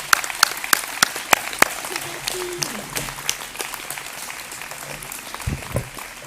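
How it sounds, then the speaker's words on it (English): Audience applause at a graduation ceremony: a few sharp, separate claps open, then the clapping thins into a lighter patter, with a voice briefly heard near the end. "giving the Vice-Rector a very warm round of applause for having made this ceremony possible"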